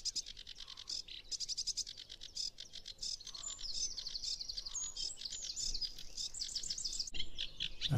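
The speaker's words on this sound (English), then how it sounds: "There's the sedge warbler. You hear that much more manic song. Repeating notes over and over and over," A sedge warbler sings a busy, manic song of rapidly repeated chattering notes broken by buzzy phrases, fairly clear against a faint background hiss.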